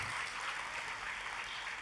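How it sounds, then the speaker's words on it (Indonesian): A church congregation applauds during a worship service, a steady, dense wash of clapping that holds evenly throughout with no voices on top. "Tepuk tangannya yang paling meriah buat Tuhan kita."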